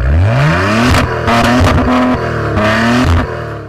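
A Maserati sports car engine in sport mode revs hard in sharp, loud bursts, snarling up and dropping back with crackling blips between pulls.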